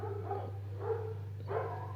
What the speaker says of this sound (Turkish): Köpekler coştu bu arada. Mahalle yıkılıyor adeta.